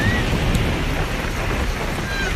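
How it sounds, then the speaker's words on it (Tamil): Heavy rain pouring down in a steady, dense roar that fills the whole moment, loud and continuous, with any rumble of thunder blended into the downpour rather than standing out. "மழை சடசடன்னு பொழிய ஆரம்பிச்சு"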